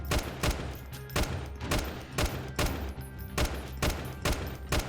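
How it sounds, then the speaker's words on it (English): Gunfire in the video game Freeman Guerrilla Warfare, sharp shots coming in a steady rhythm of regular bursts about every half second, loud and close, with no talking. "I was trying to shoot them through the trees there."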